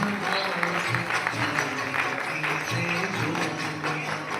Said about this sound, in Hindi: इन बच्चों के लिए जोरदार ताली आप सभी बजा सकते हैं।